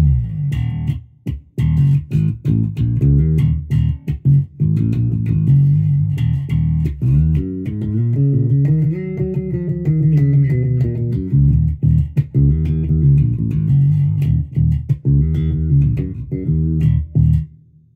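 Budget bass guitar bought cheaply on Amazon, played steadily for about eighteen seconds with plucked low notes and rising melodic runs, loud and close with no other sounds.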